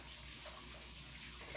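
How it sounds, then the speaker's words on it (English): Tap water running while hands are rinsed at a kitchen sink during baking, a soft, steady splashing stream that is faint and continuous. "I'm going to rinse my hands quickly."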